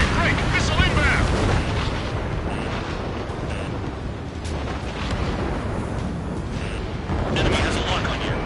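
A missile explosion in the jet combat video game Ace Combat 7, heard as a heavy, continuous roaring rumble with louder swells at the start and end, under radio-style voices talking over it.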